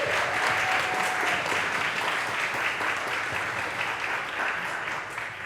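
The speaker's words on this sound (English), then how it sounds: "Would you give all the artists a huge round of applause?" Sustained audience applause for the artists at an art show awards announcement in Northwest Louisiana, a dense, steady clapping from a large crowd that carries evenly throughout and eases slightly toward the end.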